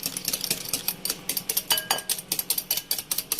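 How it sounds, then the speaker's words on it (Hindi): A spoon beats chocolate pancake batter in a bowl in quick steady strokes, a close rhythmic series of light clinks and taps with no talking. "और इस सब मिक्सचर को हमें अच्छी तरह मिक्स करना है।"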